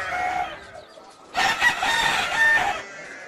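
Chickens from a farm-story sound effect: a short clucking call, a brief pause, then a louder, busier burst of crowing and clucking that fills the second half, clear and close.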